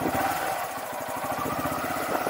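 A manual motorcycle engine runs steadily at low revs during a half-clutch start, a close, continuous mid-pitched engine drone with rapid pulsing firing strokes and no pauses.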